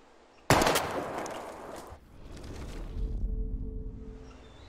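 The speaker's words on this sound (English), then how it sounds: "We're gonna shoot all these bottles without wasting a single bullet." A single loud gunshot from the video game Life is Strange, fired at bottles, cracks sharply and is followed by a rumbling, fading tail in the quiet surroundings.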